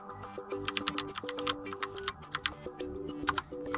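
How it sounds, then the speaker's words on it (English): Steady typing on a Logitech Pop Keys keyboard: a close run of clicky, uneven keystrokes over a soft tonal background hum, no speech. "Now I can just type in anything, so let's maybe go to notes and you can type in"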